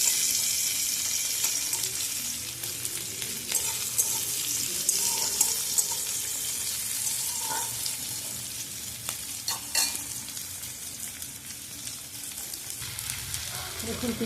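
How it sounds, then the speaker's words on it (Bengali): Chopped onions fry in hot oil for a gach pathar curry, a steady broadband sizzle with intermittent scraping and stirring clatter of a spoon in the pan throughout, fairly close and continuous. "এবার এই তেলের মধ্যে আমি পেঁয়াজ কুচিগুলো দিয়ে দেবো। নাড়াচাড়া করে একটু ভাজবো।"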